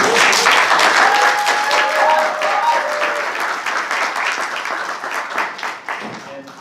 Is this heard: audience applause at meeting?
yes